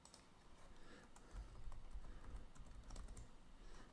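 Steady, soft keystrokes on a computer keyboard as text is typed into a Canva design, a quiet run of close, rapid taps that thickens in the middle, with no voice.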